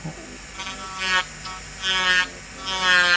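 An electric nail file fitted with a filing bit whirs against poly-acrylic gel nails, a steady high buzz that rises and falls in short bursts as it shapes each nail, heard up close.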